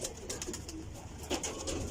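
Rooftop loft pigeons coo softly in repeated low throaty calls while the birds are let out, a close, continuous murmur with no voices.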